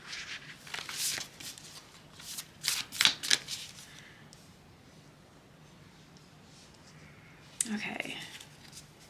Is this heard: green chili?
no